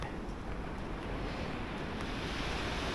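Ocean waves at Usami beach in Japan on a calm day, a steady broad wash of surf with wind noise on the microphone, continuous and fairly loud with no voices.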